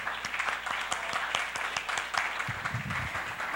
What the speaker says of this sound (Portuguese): Vamos aplaudir esse Deus, igreja.